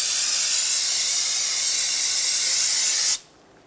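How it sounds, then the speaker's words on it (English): Aerosol can of brake parts cleaner sprayed onto a brake caliper on a 2007-2014 Chevrolet Silverado 2500 HD: a single loud, close, bright hiss lasting about three seconds, then stopping abruptly into silence. "I'm just gonna clean this off with some brake parts cleaner"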